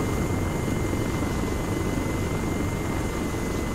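A Blackhawk helicopter flies in a video game, its steady, continuous rotor and engine drone holding at an even loudness throughout, with no talk over it.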